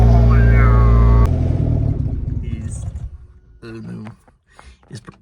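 An EG Honda Civic coupe with a B20 engine and open head, running low on fuel: a loud steady idle that cuts out abruptly, followed by rumbling, clattering sputters as it dies, with people talking.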